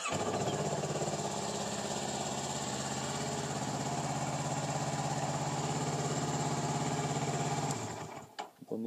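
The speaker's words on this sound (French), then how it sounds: "contact de la machine, mise en route moteur" A Kawasaki ER6N motorcycle engine idles steadily and close by for about eight seconds, a constant even rumble that cuts off abruptly near the end.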